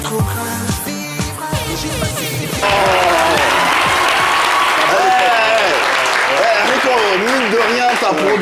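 After a burst of music, loud studio-audience applause swells and continues steadily for several seconds, with voices talking over the clapping.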